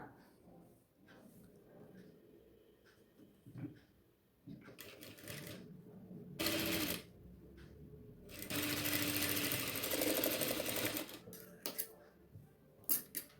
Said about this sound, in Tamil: இனி நம்ம இந்த திருப்பின கழுத்துடைய ஓர பக்கத்துலேயே ஒரு ஸ்டிச் பண்ணிக்கலாம்.